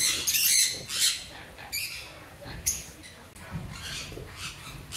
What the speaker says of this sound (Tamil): இவ்வளோ சூப்பராக இருக்குது பாருங்க லவ் பேர்ட்ஸ்.